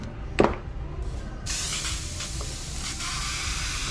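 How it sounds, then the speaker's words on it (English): An airbrush sprays deep blue paint onto a Spider-Man design, a steady close hiss that starts about midway and runs to the end, after a brief knock and some faint handling noise. "If I can get my airbrush in order."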